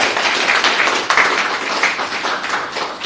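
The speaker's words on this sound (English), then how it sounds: "A round of applause." An audience applauds after a startup business development talk, a loud, continuous wash of many hands clapping at close-to-mid range, steady throughout with no speech over it.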